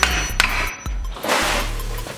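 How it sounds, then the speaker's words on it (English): Several sharp metallic hammer strikes on a front-wheel-drive axle nut of a Scion xB ring out close by, spaced irregularly, each with a brief bright clang. "You take your hammer"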